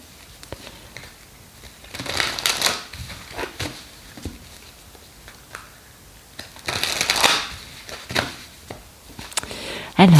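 Oracle cards being shuffled for a card reading, with a few short bursts of riffling and sliding cards, loudest around the middle and again near the end, separated by quieter handling and faint speech.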